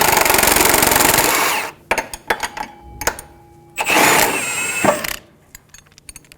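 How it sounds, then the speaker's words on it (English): Ratcheting and clanking with a 17mm socket on the upper strut bolt of a 2003-2008 Honda Pilot rear suspension, in two loud rattling bursts separated by sharp metallic clicks and taps. "Using a 17mm socket, remove the upper strut bolt."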